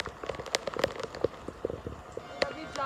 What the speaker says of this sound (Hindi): बहुत ज़्यादा तेज़ बारिश है